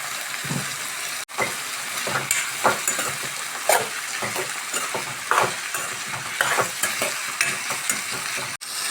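Ivy gourd stirred as it fries in a pan, a continuous close sizzle with repeated spatula scrapes and clinks against the metal, moderately loud with no talking.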